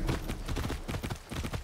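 Horse hooves clip-clop at a steady gallop in the video game Far Cry 6, a loud, continuous rhythmic pounding with no talk over it.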